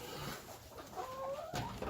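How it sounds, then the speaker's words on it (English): Free-range chickens on a farm pasture cluck softly, a faint fowl call rising briefly near the end against quiet outdoor background. "they're all free-range chickens."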